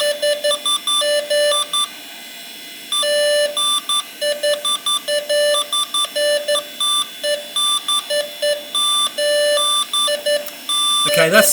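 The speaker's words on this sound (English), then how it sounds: "And the beeping's back." Repeated electronic error beeps from a Slot 1 PC motherboard with a hardware fault, steady tones pulsing in short regular bursts over a continuous high whine, loud and close throughout.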